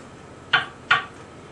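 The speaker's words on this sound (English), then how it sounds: "I'm working with the halves of the onions, and this is how I'm dicing it up" A kitchen knife chops through halved onions for a black bean yam stew: two crisp, close knocks on a cutting board, evenly spaced and quiet, with no talking.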